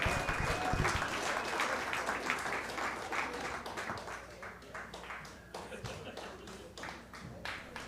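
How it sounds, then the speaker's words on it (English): A comedy club audience applauds a comedian coming on stage, a steady wash of many hands clapping that gradually thins out. "Let's give a round of applause for your next comedian."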